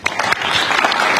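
Press corps members clap at a luncheon with the president, a brief burst of applause from a room of journalists, close and fairly loud.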